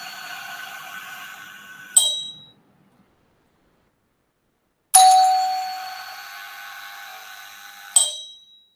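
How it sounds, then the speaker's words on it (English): An electric bell switched by an Arduino-controlled relay rings loud and steady for a couple of seconds, cuts off sharply, stays silent about three seconds, then rings again for about three seconds before cutting off once more. "the bell is activated for 3 seconds and it is deactivated for 3 seconds using this relay"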